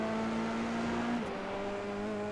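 An F3 race car engine in a sim racing game at Road Atlanta drones steadily at high revs, its pitch dipping briefly mid-clip as if shifting gear, then holding on; no voices are heard.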